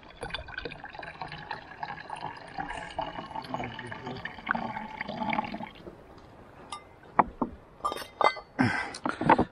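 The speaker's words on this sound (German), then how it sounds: "ich die Wasserflasche komplett voll fülle." Water running from a mountain stream in the Alps into a bottle, with a steady gurgling, trickling flow, followed by a few sharp knocks and clinks of the bottle close by.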